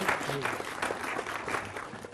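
Applause from a studio audience during a Hindi TV news debate, a steady broadband patter of clapping lasting a couple of seconds at moderate level, with some voices mixed in.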